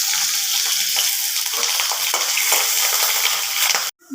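Potatoes fry in hot oil for a Bengali tangra fish curry, giving a loud, close, continuous sizzle with occasional stirring scrapes until an abrupt cut near the end.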